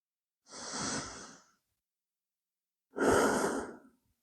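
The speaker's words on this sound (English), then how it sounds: "Last few deep breaths here." Two slow, deep breaths during a yoga flow, each a long airy exhale about a second long separated by silence, close and clear with no talk.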